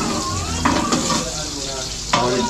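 Pork frying and being stirred in a cooking pot for a birthday meal, with steady close sizzling and a few sharp scraping stirs of the utensil against the pot.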